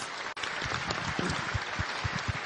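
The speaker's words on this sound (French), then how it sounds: "On peut l'applaudir." Audience at a community talent opening ceremony applauding steadily, a dense continuous wash of many hands clapping with a brief dropout early on.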